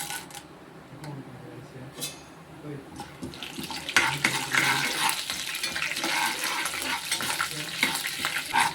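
Chana dal sizzles and crackles in hot oil in a pan for brinjal chutney, quiet at first, then louder and denser with stirring scrapes from about four seconds on.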